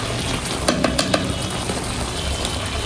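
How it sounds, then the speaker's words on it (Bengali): Cut flat beans (shim) sizzle steadily in a hot pan, with a few quick clinks from a stirring utensil early on. "সিম ভাজি হলো"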